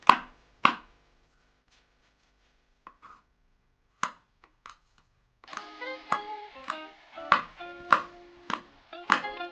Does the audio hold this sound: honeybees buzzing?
no